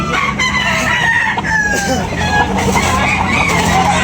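Several roosters crow loudly over a steady background of clucking hens at a chicken sale in Tabunok, Talisay, Cebu, with a few overlapping calls in a busy, noisy yard.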